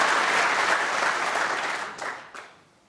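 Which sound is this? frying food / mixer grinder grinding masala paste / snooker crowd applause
snooker crowd applause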